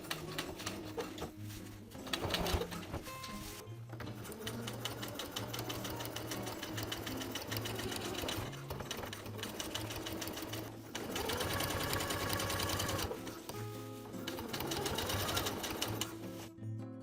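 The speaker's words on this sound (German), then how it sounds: "Nun übersteppe ich die Naht mit 2 und 8 mm Kantenabstand in kontrastfarbigem Garn" Sewing machine topstitching a denim jeans seam with contrast-colored thread, running steadily and loudly throughout with brief pauses and restarts, stitching buzz close and continuous.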